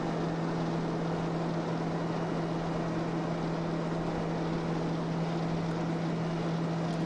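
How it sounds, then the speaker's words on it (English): Wind rumble over an aircraft fuselage with the landing gear down in the X-Plane 11 flight simulator, a steady loud broadband roar with a constant low engine hum that stays unchanged throughout. "Listen to these effects. Rumble from all that wind being disturbed over the fuselage."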